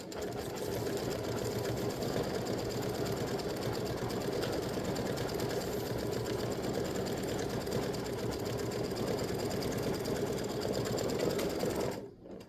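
An embroidery machine stitches decorative tail feathers on a bird design, its rapid rhythmic mechanical chatter running steadily and close for about twelve seconds before stopping abruptly.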